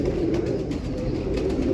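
Old domestic pigeons coo inside a loft, low throaty rolling calls repeating close by over a rumbling background, with no voices.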